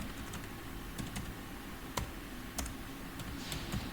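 Scattered, sparse keystrokes on a computer keyboard over a steady background hiss, a few distinct clicks spaced through the stretch.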